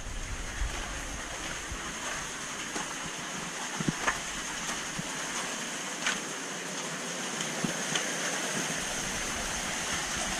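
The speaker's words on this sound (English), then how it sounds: "So that's all the water that overflows out of the two 4500s and 1800. It's dumped right in here." Steady rushing water overflows from large tanks and pours and splashes continuously into a filtration sump, a dense, even roar with occasional small splashes and drips.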